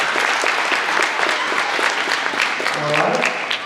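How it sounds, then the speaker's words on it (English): A winter concert audience of a school band and orchestra applauds the percussionists with loud, close, continuous clapping, and a speaking voice briefly rises over it toward the end. "So a round of applause for our percussionists."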